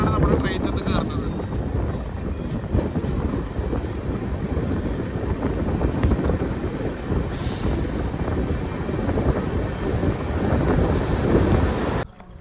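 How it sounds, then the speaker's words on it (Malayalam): An LHB passenger train pulling into platform 3 at Nagercoil Town station, a constant loud rolling roar from inside the coach with wind buffeting and occasional faint high squeals. "നാഗർകോവിൽ ടൗണിൻ്റെ 3rd പ്ലാറ്റ്ഫോമിലാണ് നമ്മുടെ ട്രെയിൻ ചെന്ന് കയറുന്നത്"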